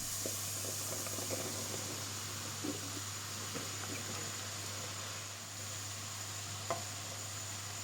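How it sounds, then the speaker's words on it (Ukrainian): Finely chopped onion and chopped champignon mushrooms stew in a pan with a steady, soft sizzling hiss, a few faint stirring clicks and a low background hum, with no talking. "Дрібно нарізану цибулю тушкуватиму разом із подрібненими печерицями."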